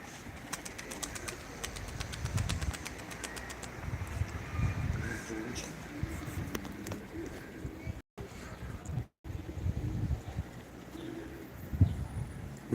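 Pigeons coo on a hot rooftop terrace during a live pigeon auction, low repeated coos rising and falling under people talking nearby.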